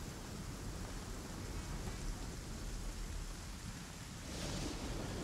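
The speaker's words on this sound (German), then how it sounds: "Der Regen ist perfekt." Steady, dense rain in the survival video game ASKA hisses evenly throughout, with no talk over it.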